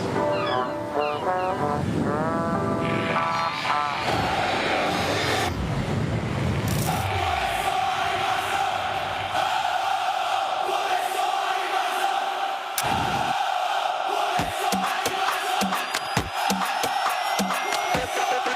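Thousands of Corinthians fans roar as a dense, loud crowd sound that fills the whole clip, swelling with chants and noise and then thinning into sharper bursts and clatter toward the end.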